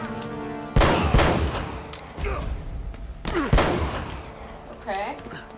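Gunfire from shooting at enemies in Uncharted: Drake's Fortune, with loud sharp shots cracking out in scattered bursts over busy combat noise, one heavy blast near the start and another midway.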